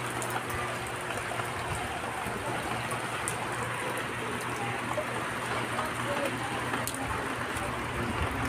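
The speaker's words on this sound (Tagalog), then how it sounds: "Ayun, naulan naman naulan." Steady, dense rain pours down in a continuous wash of hiss and patter, fairly close and loud throughout, with no talk over it.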